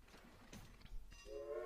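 Trains run in the video game Railway Empire, with faint rumbling rail movement and clatter that ends in a sustained, tonal horn blast toward the end.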